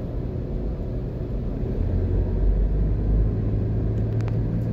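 Driving along Jamaica's Northern Coastal Highway toward Montego Bay, a car interior fills with a steady low engine and road rumble, even and continuous, with faint brief ticks near the end.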